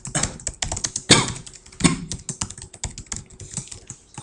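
Fingers type quickly on a computer keyboard while entering PHP code, a fast irregular run of close, crisp key clicks with a few louder strikes and short pauses.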